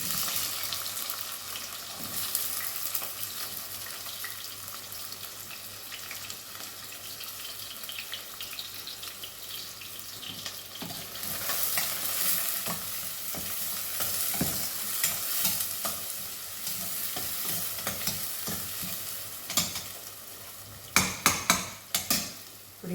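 Onions frying in a pan of oil with mustard seeds for an egg curry, a steady sizzle with stirring scrapes, louder clatter near the end, no talk.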